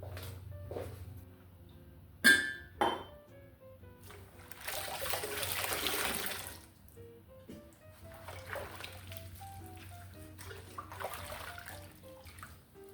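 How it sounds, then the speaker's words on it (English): Tap water runs and splashes over coffee pots as their outsides are washed at a sink, faint and intermittent, with soft clinks and a short surge of gushing in the middle. "I think I probably better go ahead and just put some water on them."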